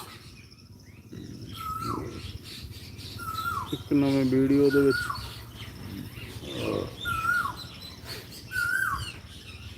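Sparrows and parrots chirp in short bright calls scattered through a humid post-rain summer scene, with someone speaking over them and a brief harsh squawk in the middle.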